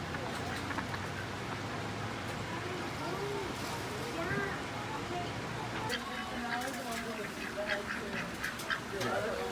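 A bunch of ducks quack repeatedly around water set out in the Arizona desert, lively overlapping calls at close range with people talking over them and steady outdoor background noise.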